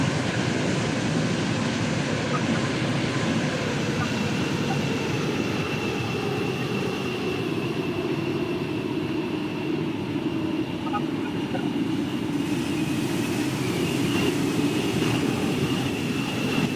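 A metro train runs toward High Street station, its steady low rumble and rolling hum continuous and fairly even throughout, with a faint tonal whine riding above it.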